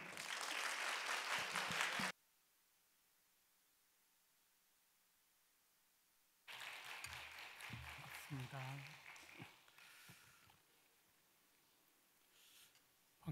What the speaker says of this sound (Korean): 우리 귀한 강사 목사님 나오실 때 우리 박수로 우리 환영하겠습니다.